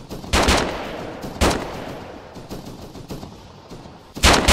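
Loud automatic gunfire in a military shooter video game, several sharp bursts that ring out and decay, with a heavy volley near the start, another a second later and a final burst at the end.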